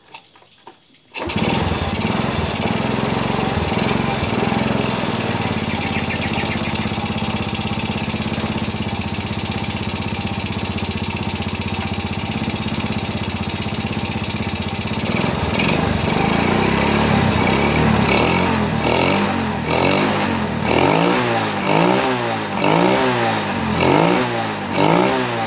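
A Yamaha Jupiter Z motorcycle engine with a faulty ignition switch is started and keeps running, a loud, close, continuous buzzing idle with a few revs rising and falling in pitch toward the end.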